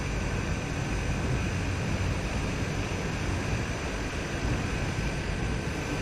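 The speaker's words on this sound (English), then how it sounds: "it is equipped with a turboprop, so it can go good distances" Steady, loud drone of a turboprop bush airplane engine in Microsoft Flight Simulator 2020, set in Kenya, holding a constant broadband roar without a break.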